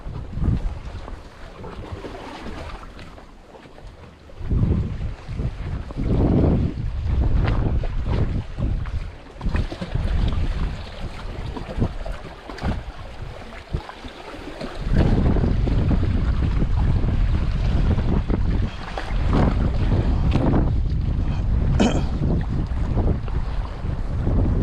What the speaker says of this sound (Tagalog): kaya lang mahangin talaga